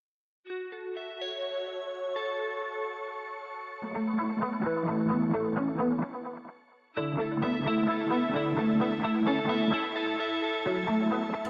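A clean electric guitar drenched in heavy chorus, delay and shimmery reverb plays ringing arpeggiated chords in two loud, close phrases, with the echoes trailing off between them.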